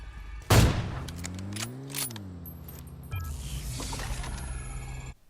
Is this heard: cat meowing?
no